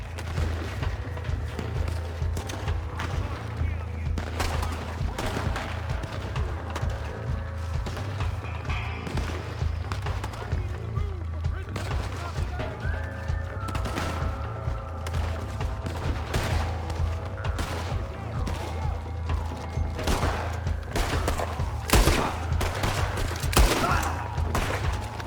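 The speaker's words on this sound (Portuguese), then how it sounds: "até que começa um tiroteio" A video game Wild West gunfight in Red Dead Redemption 2, with rapid, dense volleys of gunshots and booming blasts cracking nonstop over a low rumble, joined by faint shouting voices in the background.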